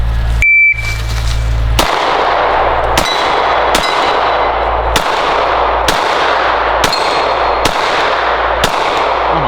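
Eight sharp, loud Glock 17 pistol shots fired at a steady pace, each followed by a ringing metallic clang as the rounds strike steel targets, with echoing tails between shots.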